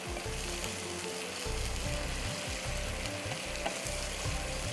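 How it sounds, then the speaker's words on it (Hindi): Eggplant slices for smoky chicken shami kabab frying in hot oil in a pan, a steady loud sizzle with crackling bubbles continuing throughout. "अब बारी आती है बैंगन डालने की इसमें"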